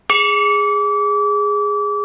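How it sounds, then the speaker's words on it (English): A small handmade wedding bell is struck once, giving a sharp clang followed by a clear, sustained ringing tone that fades only slightly, alone and close. "We're going to ring the bell one more time."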